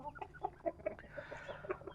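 Several chickens cluck in quick, uneven bursts close by, with a soft scratchy farmyard background.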